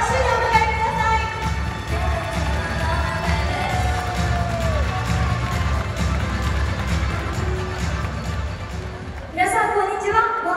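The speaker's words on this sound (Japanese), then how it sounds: "拍手でお迎えください" An audience in a large sports arena gives a sustained roar of applause and cheering to welcome performers onto the floor, steady and broad throughout, with a voice calling out near the end.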